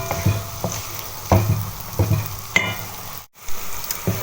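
Chopped onions and garlic sauté in an oiled pan, giving a steady close-up sizzle broken by regular scraping thumps of a spoon stirring them, with no voices.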